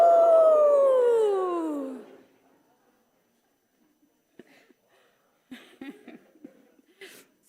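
People at a Sunday church service imitate a group howl: one long, loud, falling human wolf howl, then quieter scattered yips and chuckles from the congregation.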